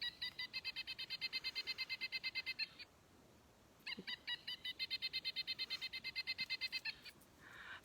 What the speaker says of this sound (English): this is a male Pileated Woodpecker, which are the ones that tend to make these really loud noises.